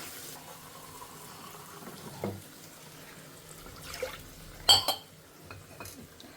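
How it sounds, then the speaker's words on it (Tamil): Water is poured into a pot of thickened huli saaru, a lentil and vegetable stew: brief splashing pours and a few utensil clinks over a quiet kitchen background. "கொஞ்சம் கெட்டியாக இருக்குது, நான் இதில் ஜலம் ஆட் பண்ணிக்கிறேன்."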